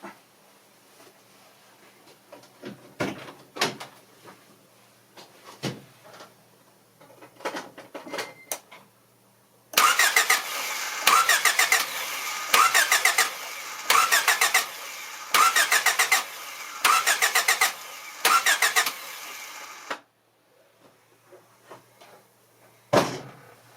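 The engine of a 1993 Honda Civic with a no-spark fault cranks repeatedly without starting: a loud, rhythmic chugging burst lasts about ten seconds, framed by scattered clicks and clunks before and after.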